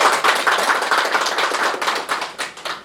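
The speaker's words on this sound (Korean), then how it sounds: "큰 박수 부탁드립니다" A small audience claps at a Korean provincial signing ceremony for a resident evacuation agreement, giving a brief burst of close, brisk applause that begins to thin out and fade after a couple of seconds.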